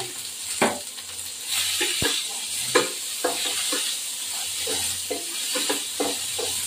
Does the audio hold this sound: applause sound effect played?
no